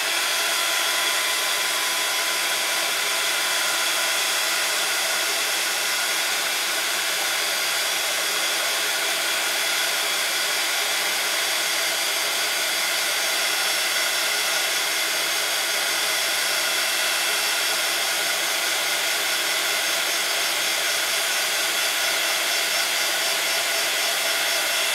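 A heat tool or hair dryer blows a steady, loud, unbroken whoosh while drying a page of a tiny papercraft art journal, close by and alone throughout.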